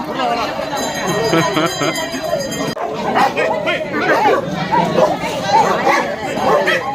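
Dogs fight and bark in a busy Sunday market in Cheyyar, with sharp yips and whimpers breaking out over loud crowd chatter, and people shouting close by.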